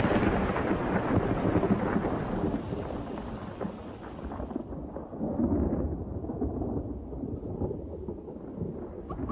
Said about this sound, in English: Each day, thunderstorms break overhead.